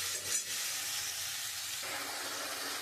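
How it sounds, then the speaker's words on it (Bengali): Spice masala and potatoes frying in a pan with a little salt while soybean curry is cooked: a constant bright sizzle, close and moderately loud, with a soft stir or scrape near the start. "আমি মশলাটা একটু কষিয়ে নেব আলু দিয়ে"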